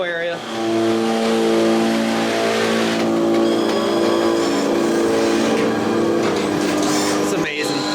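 Car engine revving hard on the dyno at Whipple Superchargers, a loud, close, sustained roar with rising and falling tonal whine and a sharper burst of revs midway, with voices talking over it.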